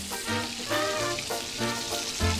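Meat pan-frying in oil for a home-cooked party dish, giving a loud, steady sizzle and crackle throughout, close up, with brief harmonic tones from a nearby voice mixed in.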